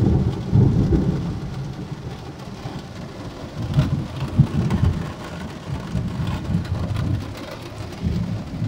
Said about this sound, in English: And for about the last hour, massive lightning thunder.